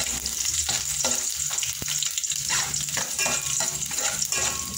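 Ginger sizzles and crackles in hot oil in a pan while kaldereta is being cooked, a steady close frying hiss with occasional stirring scrapes.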